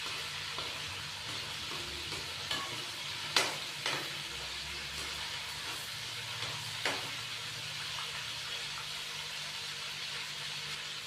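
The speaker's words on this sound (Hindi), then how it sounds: "चिकन को पहले हम 5 से 6 मिनट के लिए हल्का सा फ्राई कर लेंगे।" About half a kilo of chicken fries in a pan, a steady, fairly quiet sizzle and hiss broken by a few sharp clinks and scrapes of stirring.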